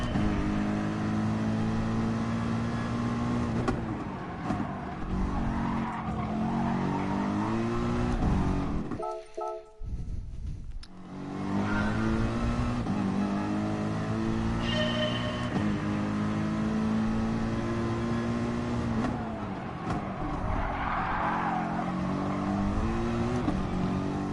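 A race car engine in the GT Sport video game drones and revs steadily through laps, with pitch rising and falling through gear changes and a brief drop in sound partway through, continuous and fairly loud.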